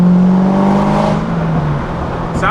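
A Corvette ZR1 fitted with a louder aftermarket exhaust revs hard right up close, a loud rising engine roar that eases off and settles into a deep burbling drone.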